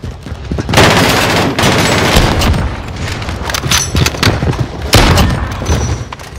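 Rapid bursts of gunfire from the Modern Warfare video game, with a sniper rifle in play: loud, dense volleys and booming shots overlap in near-continuous waves through the whole stretch.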